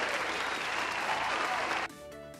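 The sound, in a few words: applause sound effect on a stream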